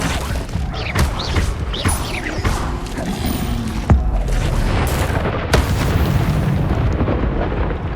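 The Incendio fire spell goes off in Hogwarts Legacy, a whooshing burst with booming impacts and crackling debris over a rumbling game soundscape, with further heavy hits around four and five and a half seconds.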